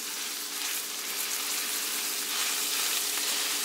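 Perch and walleye fillets frying in melted butter in a pan, giving a steady, close sizzle and crackle that runs unbroken throughout.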